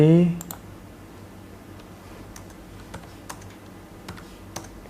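Sparse keystrokes on a computer keyboard, including a Ctrl+V paste, click close by in a quiet room, with a brief voice at the start before scattered single taps.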